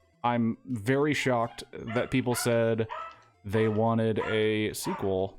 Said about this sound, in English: and that's my dog.